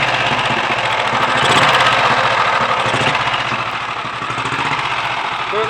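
A pre-war Ariel 350 RH motorcycle engine runs close by with a rapid, even, loud putter that swells slightly and settles back, alone with no voices.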